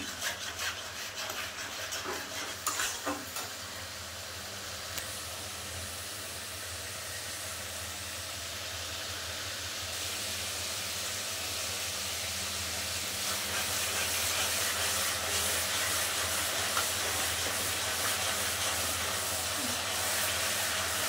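A masala of ginger, green chilli, cumin, coriander and tomato is stirred and scraped in a pan over a raised gas flame. Steady frying hiss and scraping carry on without a break and grow a little louder toward the end.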